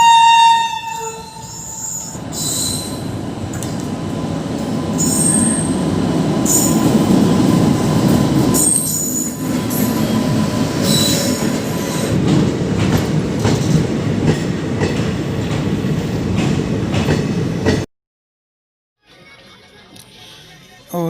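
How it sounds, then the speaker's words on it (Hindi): A passenger train pulls into a long station platform in Bahraich, India, with a loud rolling rumble, wheel squeal and horn-like tones building and sustained for nearly twenty seconds before a sudden drop to quiet. "अब 8:43 पर सामने से वो मेरी ट्रेन दिखाई दे रही है"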